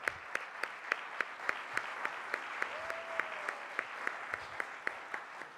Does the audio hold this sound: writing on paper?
no